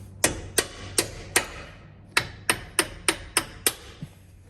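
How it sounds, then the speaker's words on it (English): A bronze hammer taps a metal part on a GMC motorhome shock absorber in sharp, ringing strikes: four evenly spaced blows, a brief gap, then a quicker run of about seven more. "So I actually got my bronze hammer, and I'm just gonna tap it on."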